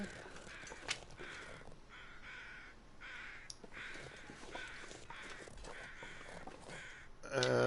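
Crows caw in repeated harsh calls at a moderate distance in the survival video game The Long Dark, several calls spaced through a quiet outdoor ambience.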